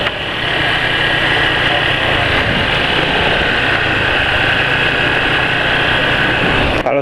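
A motorcycle engine idles steadily and loudly close by, a constant buzzing rumble that cuts off at the end.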